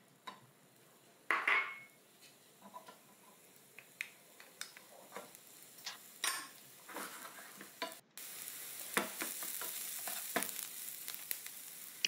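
Onion and bell peppers fry in oil in a pan while a utensil stirs them, with sharp scraping clicks and knocks over a low sizzle that grows into a louder, steadier hiss toward the end.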